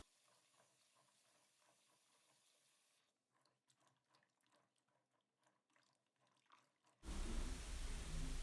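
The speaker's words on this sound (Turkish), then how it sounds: "Sonra bamyaları bol suda birkaç kez güzelce yıkıyoruz." Fresh okra is washed in plenty of water: soft, quiet sloshing and dripping, then a sudden loud rush of running water near the end.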